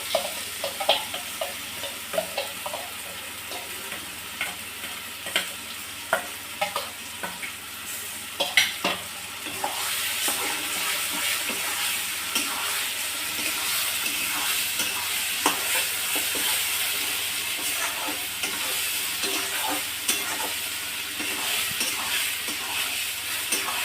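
Pointed gourd paste goes into a pan with fried onions and is stirred, the spatula scraping in repeated strokes before a steady, louder sizzle takes over midway and continues throughout.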